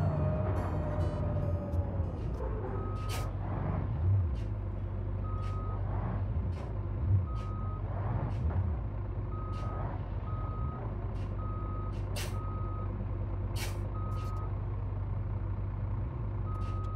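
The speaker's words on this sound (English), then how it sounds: "We've got a lorry slowing us down." A lorry slows traffic in the driving game BeamNG.drive, with a low diesel rumble under a long run of evenly spaced reversing beeps and occasional hissing air-brake bursts.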